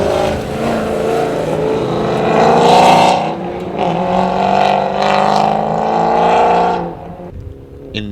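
More than 60 race cars run at a racing event in Neosho, with loud, close engines roaring and swelling as they pass, pitch rising and falling, then dropping away near the end.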